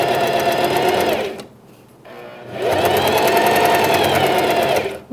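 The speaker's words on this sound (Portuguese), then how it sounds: "Levantou o pezinho e vamos costurar toda a volta, tá?" A sewing machine stitching around the edge of a pet bandana, a fast steady mechanical whir that runs, stops for about a second, then restarts for another long run, loud and close.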